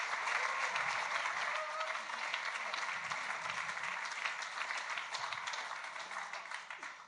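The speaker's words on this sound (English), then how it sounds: "So give him a big round of applause." A large audience at a poetry slam event claps in a sustained round of applause, a dense, steady wash of hand claps that holds loud throughout and tapers slightly toward the end.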